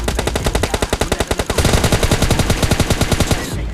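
Rapid automatic gunfire from a battle royale video game, two long bursts of loud, evenly spaced shots with a short break between them, close and without talk.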